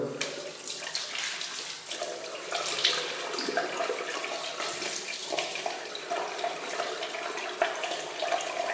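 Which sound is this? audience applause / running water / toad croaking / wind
running water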